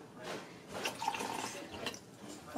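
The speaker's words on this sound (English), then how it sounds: "Just pour it in." A yellow liquid is poured into a container, giving a soft, steady splashing trickle with a few brighter gurgles, faint and close, with no voices.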